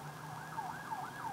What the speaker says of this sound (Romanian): stai că trece poliția.